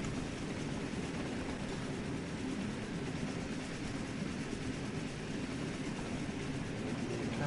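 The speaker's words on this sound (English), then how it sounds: "I'm currently driving Gordon along the main line, and he is just so loud." Gordon the steam engine runs loudly along the main line in a video game, a dense, steady roaring rumble with no breaks throughout.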